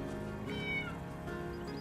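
A Minecraft cat meows repeatedly in quick succession, clear and close over a quiet game background, with no talking.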